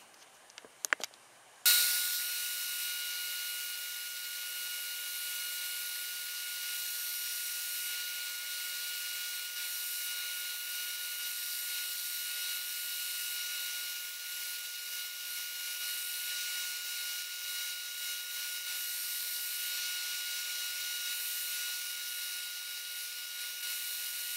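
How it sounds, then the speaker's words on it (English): Wood pieces are pressed against a running belt sander to rough out a profile, after a few brief knocks, giving a steady, close, continuous abrasive whir and hiss that holds evenly throughout. "I'm going to get to going sanding these on the belt sander here just to get the profile started"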